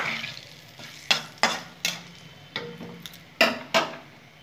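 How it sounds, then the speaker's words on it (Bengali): Whole spices tempering in hot oil for a Bengali chitol fish kaliya, with a steady soft sizzle under repeated sharp scrapes and taps of a spoon stirring in the pan. "ফোড়নটা একটু ভেজে নেব।"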